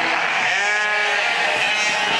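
Sheep on a pedigree sheep-breeding farm in the Gomel region of Belarus let out a loud, wavering, drawn-out bleat lasting the whole moment, close by.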